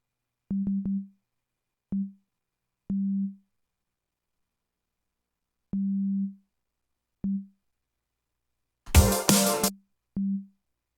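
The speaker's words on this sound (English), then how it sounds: "just a sine wave." Plain sine wave bass notes from a Logic stock synth for a drum and bass beat: short, deep, pure tones played one at a time with irregular gaps of silence, plus a brief burst of noisy clatter near the end.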